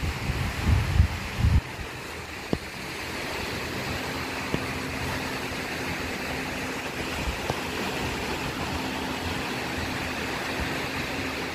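Sea waves roll and wash around a fishing boat out on open water, a steady broad rushing roar mixed with wind buffeting the microphone, with a few bumps early on.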